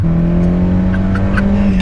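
A project car's engine revving hard on the road, a loud sustained drone holding steady at high revs, close and continuous with a faint whir over it.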